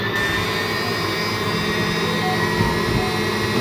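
Steady, even motor whir of a Usha Janome Allure DLX sewing machine running without pause, close and fairly loud throughout.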